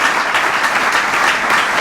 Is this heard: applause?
yes